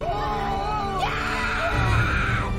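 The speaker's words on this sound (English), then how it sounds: "Eui-ju screams here" A character in a film about a city engulfed by mysterious white gas screams while clinging to a tower, giving a loud, rising and wavering cry that lasts the whole moment over a background score.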